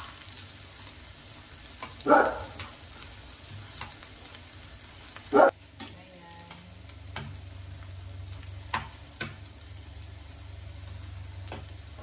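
Tuna browning in a frying pan, a steady close sizzle and crackle throughout, broken by a few louder scrapes and clatters of turning, with no talking.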